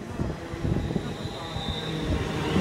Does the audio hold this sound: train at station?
yes